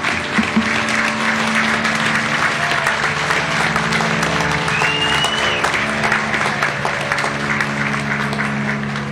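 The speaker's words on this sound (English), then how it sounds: "Round of applause for them." An outdoor crowd at a Memorial Day program applauds steadily for several seconds, loud and continuous, with a low sustained hum running underneath.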